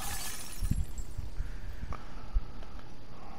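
Glass shattering in The Last of Us Part II, a couple of short breaking crunches near the start, then scattered faint clinks over a steady ambient game background.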